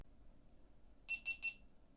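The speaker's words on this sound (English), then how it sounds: "I'm hearing beeps. That's not good. Beeps aren't good." Three quick electronic beeps in an even rhythm, high-pitched and fairly faint above a low room hum, with no talk.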